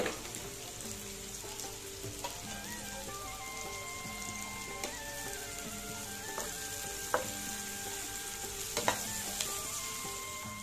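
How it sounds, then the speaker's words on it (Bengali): Chopped onions and green chilies fry in a pan with a steady crackling sizzle, broken by occasional scraping stirs and clinks of a utensil, close and continuous, while soft music plays underneath. "এখন আমি এগুলো ভালো করে ভেজে নেব একটু ব্রাউন কালার করে"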